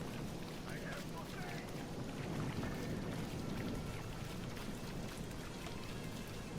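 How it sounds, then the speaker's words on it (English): In the fantasy video game Desolation of Mordor, a desert storm gives a dense, steady hiss of wind and rain throughout, fairly quiet with no clear breaks. "How are we still getting a desert storm in here?"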